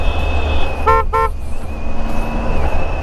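A car horn gives two short, loud honks over steady road and engine noise while driving.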